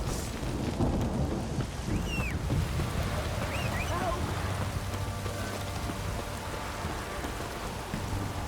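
Heavy rain pours down steadily in The Witcher 3: Wild Hunt, a dense wash of noise with low rumbling underneath and a few faint chirps.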